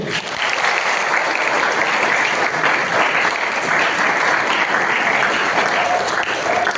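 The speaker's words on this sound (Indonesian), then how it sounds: "beri aplaus untuk Undip" Sustained applause from a large audience at a joint event between Universitas Diponegoro (Undip) and UIN K.H. Abdurrahman Wahid, loud, dense clapping filling the room without a break.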